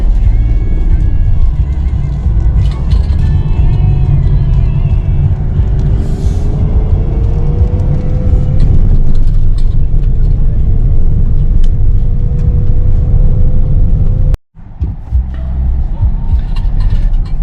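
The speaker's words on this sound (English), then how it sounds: "I've been driving for a little bit here" A car drives along a road near the town of Kringa in Istria, Croatia, with steady, loud engine and road rumble throughout and a brief sharp dropout near the end.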